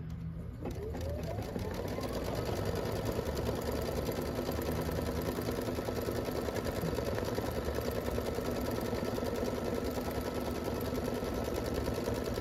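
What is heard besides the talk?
Scan n Cut machine embroidering a word in purple thread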